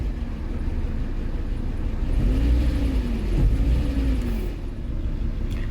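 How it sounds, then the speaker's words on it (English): A 2012 Volvo S60 engine runs with a misfire, a steady low rumbling idle with uneven pulsing and a brief rise in pitch midway, close and continuous throughout. "Feels like it's misfiring."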